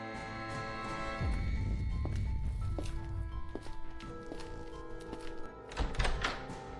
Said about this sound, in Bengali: দরজায় ধাক্কার শব্দ পেলাম।